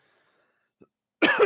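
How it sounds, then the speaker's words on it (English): A single short cough followed by throat clearing from someone whose sinuses are draining, faint at first, then a louder, rougher burst of throat clearing close to the mic. "I do apologize in advance for all the coughing and clearing my throat"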